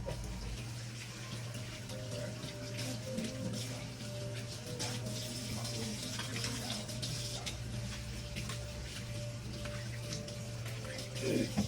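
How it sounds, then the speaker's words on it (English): Hands washed under a running kitchen tap, a steady close splashing stream that runs the whole time with small bursts of splatter and a faint hum beneath, and no one speaking. "So they're all coated, and I'm gonna wash my hands again."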